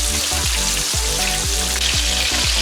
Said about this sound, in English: Now that we have the chicken frying on the stove